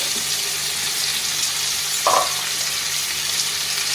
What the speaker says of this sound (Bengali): চিংড়ি মাছটা আমি বেশি ভাজবো না একটু নাড়াচাড়া করব